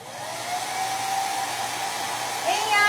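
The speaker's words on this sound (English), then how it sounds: "We're going to go ahead and touch it with the dryer." A hair dryer blows steadily on a handmade vintage-style craft Christmas tree, a loud continuous whoosh that holds throughout and swells slightly near the end.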